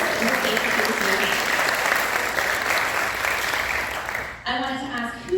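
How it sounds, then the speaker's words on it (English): Audience at a film premiere at a festival applauds, dense steady clapping at close range for several seconds, then tapering as a voice begins talking over the last stretch. "give yourselves a round of applause for being here"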